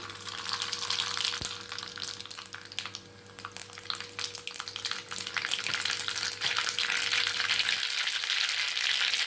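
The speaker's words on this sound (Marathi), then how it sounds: "मोहरी तळलेली आहे" A spoonful of mustard seeds fries in hot oil in a pan for semolina upma, crackling and spitting in dense close bursts over a faint steady hum, with no one talking.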